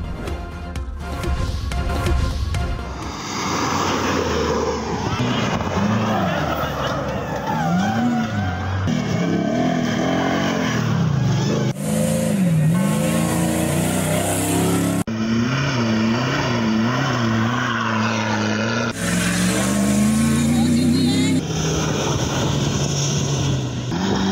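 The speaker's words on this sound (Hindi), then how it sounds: "हल्के सहराओं में गाड़ियों की दौड़। 8वीं थल जीप रैली का तीसरा मरहला।" Jeeps race across the Thal desert in the third stage of the 8th Thal Jeep Rally, engines roaring loudly and continuously with rising and falling, wavering pitch as vehicles accelerate and pass.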